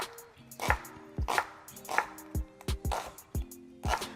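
A knife slices leeks into rings on a cutting board, about ten crisp, close thunks in a steady rhythm with brief pauses between cuts.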